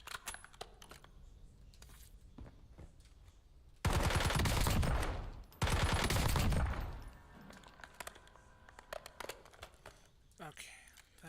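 Guns fire at a firing range in a video game. Two loud, sustained bursts of rapid fire stand out sharply against quieter clicks and background game sounds.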